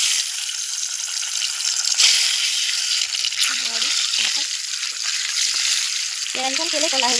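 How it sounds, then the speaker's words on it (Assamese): Eggs seasoned with turmeric and salt fry in hot oil, giving a loud, steady sizzle and crackle that runs throughout, with brief muffled voice-like sounds near the end. "তেলখিনি পূৰা গৰম হৈ গৈছে। এতিয়া মই কণীকেইটা দি দিম এটা এটাকৈ।"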